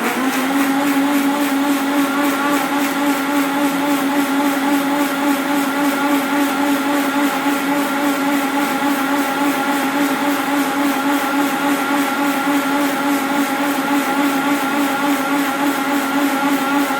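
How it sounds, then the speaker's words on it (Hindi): Electric mixer grinder blending soaked ingredients with water into homemade milk, a steady loud whirring drone with a constant motor hum that holds unchanged throughout, with no talking. "इस तरह से इसको मिक्सी के ऊपर रखेंगे और मिक्सी को ऑन करेंगे।"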